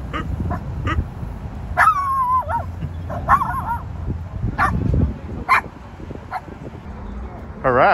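A dog barks and whimpers in bursts, with high whiny yelps between the barks, while people talk close by.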